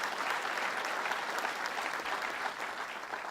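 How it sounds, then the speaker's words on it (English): Dense, steady audience applause at a Syracuse public event with the governor, a continuous wash of many hands clapping at even loudness throughout, no talking over it. "Chancellor deserves that round of applause"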